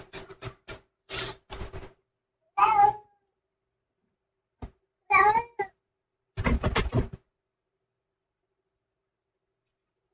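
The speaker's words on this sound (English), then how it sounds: "that was my cat" A pet cat meows several times, loud and close, in short separate calls spread across quiet pauses, mixed with a few sharp knocks.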